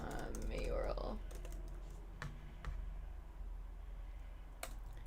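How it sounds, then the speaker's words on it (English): Typing on a computer keyboard, a loose run of soft, close key taps that goes on steadily under a spoken voice. "You can't even see what I'm typing."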